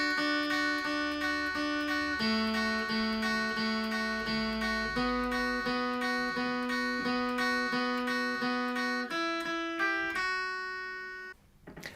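On guitar, the riff is picked slowly as clean single notes in a steady, even rhythm, ending with a brief strum, fairly soft and with no voice over it.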